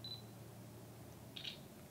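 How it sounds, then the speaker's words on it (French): A Fujifilm XP50 compact digital camera from 2012 taking a photo: a short high beep, then a brief electronic shutter chirp a moment later, faint over quiet room hiss. "on pèse le déclencheur à mi-chemin pour prendre la photo ou pour faire son foyer"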